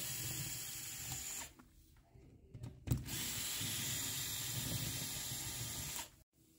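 A power drill removing screws from an electrical cover whirs steadily, breaks off for a moment with a clunk, then runs again for several seconds before stopping.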